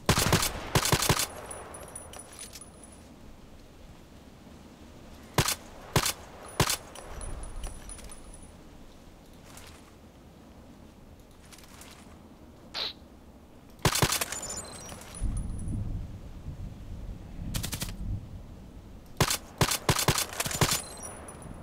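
Rapid bursts of automatic fire from an EBR rifle in an online shooter game, sharp loud volleys repeating in clusters across the stretch with brief pauses between bursts.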